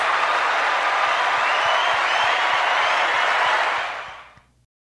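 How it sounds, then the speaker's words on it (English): A crowd applauds the Faculty Performance Award recipients at Tuskegee University's annual staff and faculty recognition and awards program. The applause is loud, dense and sustained, then fades out to silence near the end. "let's give a final round of applause to all of our Faculty Performance Award recipients"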